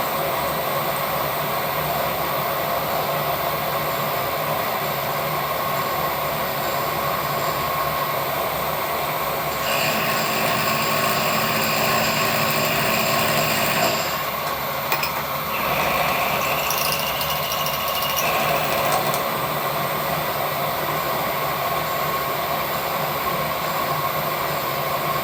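A machine cuts a keyway with a quarter-inch cutter in a small fabrication job, a loud, steady mechanical whine and grind that shifts in pitch twice partway through, then settles back, with no speech.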